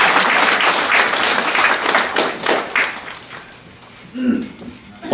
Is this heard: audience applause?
yes